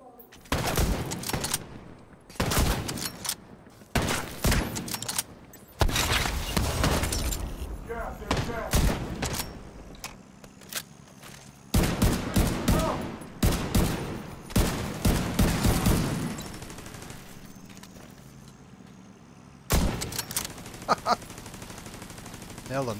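Gunfire in the Division 2 video game comes as repeated loud bursts of automatic fire and single shots, spaced through the clip with short gaps. A player's voice talks in between and over the shots.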